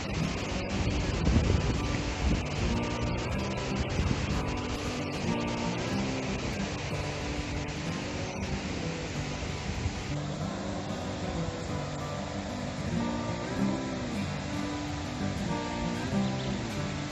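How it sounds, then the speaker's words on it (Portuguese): A waterfall heard from above its upper drop on a Brazilian outing, a continuous broad rushing roar of falling water mixed with wind buffeting the microphone, steady throughout. "Aqui é a cachoeira de cima, pessoal."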